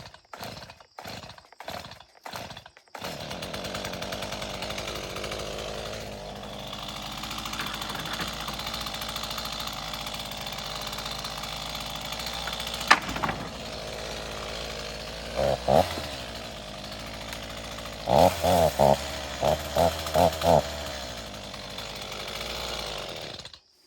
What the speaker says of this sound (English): I want to cut up these skids here first. Gotta get the chainsaw going.